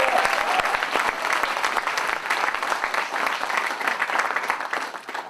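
A crowd gives a state senator, the minority leader from Brooklyn, a sustained round of applause, with many hands clapping briskly and evenly before it tapers slightly at the end.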